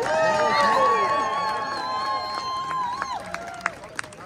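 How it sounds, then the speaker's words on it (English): Crowd applause and cheering for carol singers at an outdoor Christmas tree lighting ceremony during the Troy Victorian Stroll, a dense wash of clapping with some whistles and sharper claps near the end. "One more round of applause for these guys"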